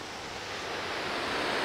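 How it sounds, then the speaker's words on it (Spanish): Ocean waves break on the shore at Acapulco, churned up after a hurricane, producing a steady, broad roar of surf that swells slightly louder toward the end, with no voices. "Aquí se puede ver hasta dónde llega el reventar de la ola"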